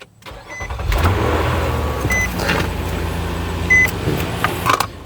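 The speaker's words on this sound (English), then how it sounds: "let's go ahead and fire up the car" A 2015-2024 Nissan Murano engine cranks and catches after a moment of quiet, then settles into a smooth, steady idle up close, with a few faint clicks and no speech.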